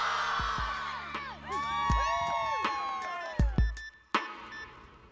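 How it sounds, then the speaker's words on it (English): A group cheers and shouts together in a loud burst of excited voices, with sharp whoops rising above the crowd noise. "We're going to scream loud and proud"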